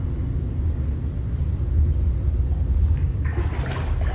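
Steady rushing water runs from a tap in a hotel bathroom in China while feet are washed, a continuous close low gush with slight splashing toward the end.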